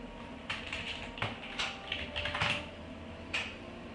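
Quiet, sparse keystrokes on a computer keyboard, a few clicks and short bursts spaced across a few seconds, close and soft with no talking.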